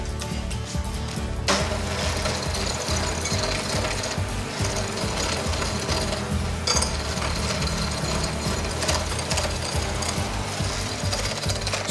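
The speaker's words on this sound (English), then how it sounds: "we can easily mix all of this with a hand mixer" A hand mixer whirring steadily as it beats cake pop batter in a bowl, loud, close and continuous, with slight shifts in pitch and no talking.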